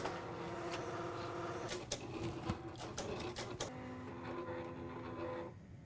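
Electronic cutting machine fitted with a Glue Quill pen, working on a glittery favor-bag project: a faint mechanical whir and buzz of the carriage, with rapid ticking and clicking shifts in the motor pitch, and no talking.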